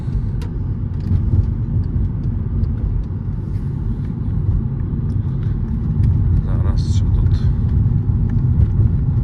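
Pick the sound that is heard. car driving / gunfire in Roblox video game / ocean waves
car driving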